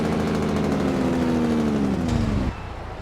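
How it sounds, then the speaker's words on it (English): Jake brake on a Freightliner Coronado truck in American Truck Simulator, a loud steady rumbling engine drone with stacked low harmonics that holds for about two and a half seconds, then cuts off abruptly. "Jake brake activated."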